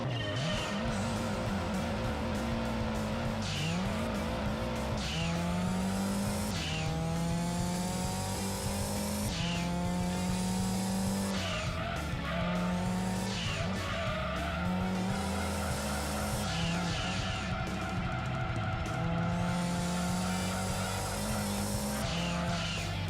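Engine at high revs in Gran Turismo 2, the Japanese NTSC-J release, topping out around 7,000 RPM, a loud continuous whine rising and falling with repeated gear shifts, with tyre squeal layered in throughout.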